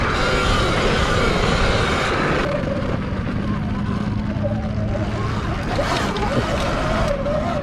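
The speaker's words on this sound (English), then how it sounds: "Kyle's new Turbo S here, 2020" Engine drone of a 2020 Polaris RZR Turbo S off-road vehicle in the Glamis dunes, a steady loud roar with wind and rumble throughout, shifting pitch near the end, with voices over it.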